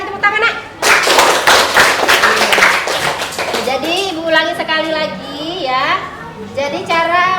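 Children in a classroom clap in a quick burst, loud close hand claps over the first two seconds or so, followed by the teacher's voice speaking warmly over the fading end of it.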